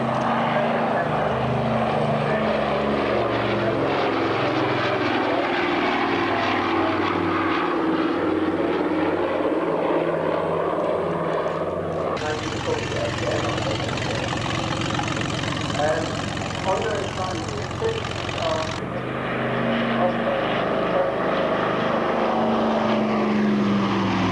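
Propeller aircraft flown by a captain at Whitman Field, its engine droning steadily and loud throughout, with a rougher, shifting stretch in the middle as if passing close or changing power; a voice talks over it.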